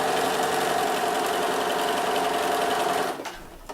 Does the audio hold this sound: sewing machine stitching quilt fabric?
yes